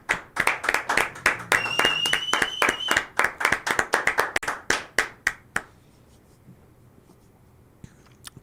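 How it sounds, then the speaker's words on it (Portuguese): A run of quick, close hand claps, about two dozen in a brisk rhythm, then stopping abruptly, followed by near silence. "Ó, palmas para Carla Zambelli."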